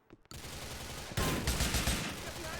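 Dense, sustained automatic gunfire in Grand Theft Auto IV starts abruptly and gets louder partway through, continuing steadily as a rapid fusillade.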